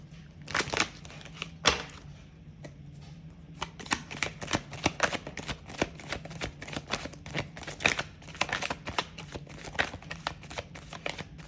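Tarot cards are shuffled up close in a quiet room, giving a series of soft, irregular crisp riffles and snaps that come in quick bursts.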